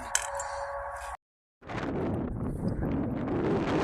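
Gusty Oklahoma City wind buffets the microphone with a low, rumbling roar, broken by a brief moment of silence before the blustering resumes steadily.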